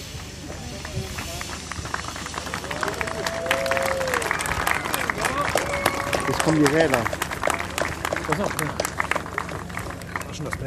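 An audience at a pyrotechnics show claps steadily in dense, continuous applause that swells in the middle, while someone speaks German over it.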